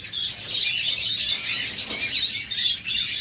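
An opaline pair of lovebirds keeps up a dense, unbroken chatter of high chirps, loud and close, with no talking.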